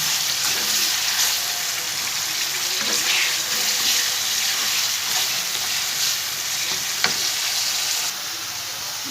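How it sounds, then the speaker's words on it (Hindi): Carrots with a little salt frying in a pan for a restaurant-style mixed vegetable dish, a steady close, loud sizzle running throughout with faint stirring ticks and no talking. "इसको मैं फ्राई कर रही हूँ।"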